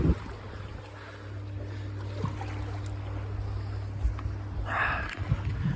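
A sailboat glides under sail with no motor, with a low steady rumble of water and wind against the hull, faint lapping and a soft splash near the end.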